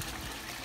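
Water flowing steadily through a home aquaponics system during a backwash that floods the grow beds, a continuous, fairly loud rushing trickle with no voices.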